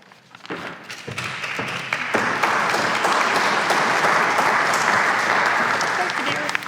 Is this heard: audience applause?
yes